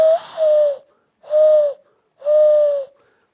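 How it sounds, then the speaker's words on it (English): Mourning doves coo in a February backyard, giving three separate soft, hooting calls evenly spaced and clear against a quiet background. "No, those are mourning doves."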